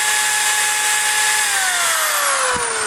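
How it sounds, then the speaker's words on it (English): An electric drill with a 3/32 carbide bit whines loudly and continuously at high pitch, its tone dropping slightly as it bites into a Ford car lock. "I'm going to switch over to this electric drill using a 3/32 carbide bit"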